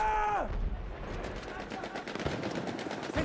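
Weapon fire in the shooter game Battlefield 1: a dense, loud stream of rapid shots cracking one after another across the whole stretch.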